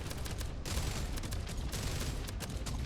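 Rapid gunfire from a shooter game, several quick bursts of shots fired at an enemy, loud and close with no talking.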